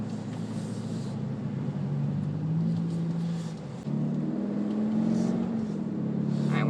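A 2020 Mercedes-Benz SL550 engine in sport mode holds higher revs inside the cabin, a steady muffled drone that rises and falls gently in pitch with no one speaking.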